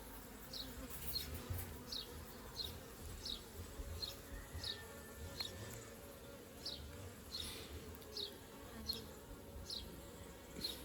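Honey bees hum in a steady, close drone around a backyard hive during a mini nuc conversion, with a regular series of faint high ticks running through it and no talk.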